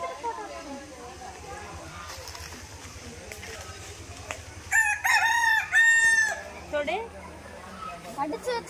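Chickens cluck and a rooster crows loudly nearby at an animal park in Kerala, the crow rising in a strained, wavering call over steady background chatter from people talking.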